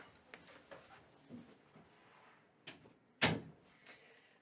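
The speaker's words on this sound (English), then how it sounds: "I'm gonna go close the door again" A house door pushed shut at a distance, a faint thud and latch click standing out from quiet room sounds with a few small knocks before it and no talking.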